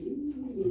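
A breeding pair of pigeons gives a brief, low, soft coo at close range with no other sound.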